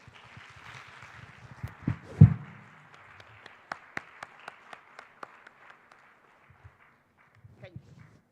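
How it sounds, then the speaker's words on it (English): An awards ceremony audience claps for the jury members, thin and scattered hand claps with a few louder thumps early, tapering off to sparse claps with brief talk at the end. "Let's express a big thank you to our jury members for their time and efforts for determining the awardees by a thundering sound of applause."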